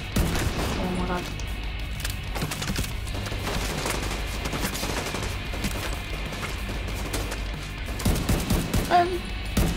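Dense bursts of gunfire in The Division 2, rapid overlapping shots crackling continuously with a few sharper louder cracks near the end, mixed with game sounds and occasional talk.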